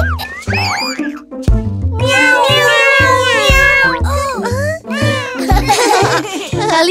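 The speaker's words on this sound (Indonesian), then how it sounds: "yang lucu, miau, miau, miau." Cartoon cat meows repeatedly in bright, bouncy mews over a cheerful children's song, with giggles and singing voices mixed in.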